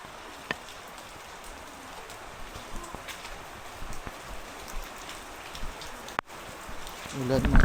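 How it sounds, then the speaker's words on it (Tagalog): Heavy rain pouring steadily onto surfaces, a dense hiss with scattered sharper drips and taps, growing louder toward the end. "lakas ng ulan guys."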